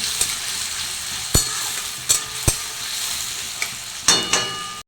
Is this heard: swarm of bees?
no